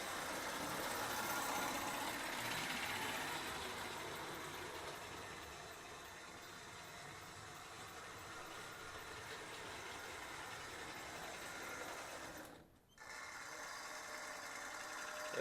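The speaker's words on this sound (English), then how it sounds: "The tender motor will still turn and push the smoke out." The tender motor of a restored 1952 American Flyer Hudson 4-6-4 model steam locomotive runs in neutral, giving a quiet, steady mechanical whir that fades slightly, with one brief dropout near the end.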